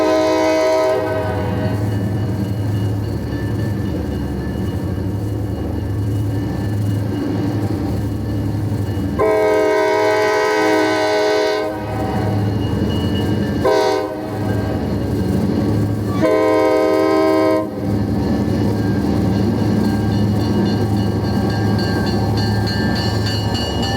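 A Delaware & Hudson train rolls past nearby with a continuous loud rumble of wheels on rails, broken by several long, blaring horn blasts in the middle section, with no talk.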